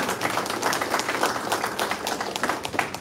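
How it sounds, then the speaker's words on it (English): Audience clapping at a football media day, a lively round of applause with sharp individual claps standing out over the steady crowd patter. "So just give yourselves a round of applause for that."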